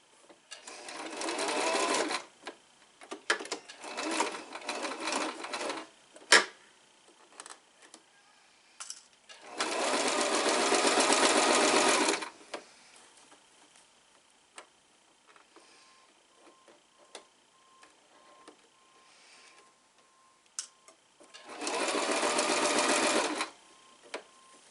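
A sewing machine stitches a 5/8 seam in a garment in three separate runs of rapid, even mechanical whirring, separated by quieter gaps filled with small clicks and handling noises.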